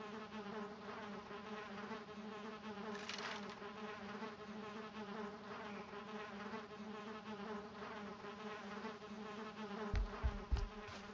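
Steady insect-like buzz of bees at a bee hut in the video game Valheim, a continuous droning hum lasting throughout at moderate level, with a few brief low thumps near the end.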